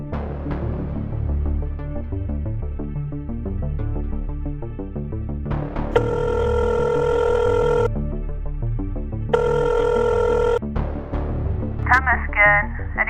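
A telephone rings in two long electronic bursts during a phone conversation, with people talking before and around the rings and a brief higher chirp near the end.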